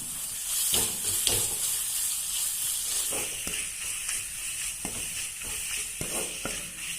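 Ginger garlic paste frying in a pan for a stuffed egg bonda dish, giving a steady bright sizzle with intermittent scraping clicks of stirring, close and continuous.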